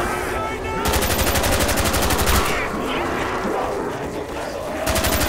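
Rapid automatic gunfire in Call of Duty Black Ops Zombies on the Kino der Toten map, loud continuous bursts of machine-gun shots with brief gaps, mixed with chaotic game noise.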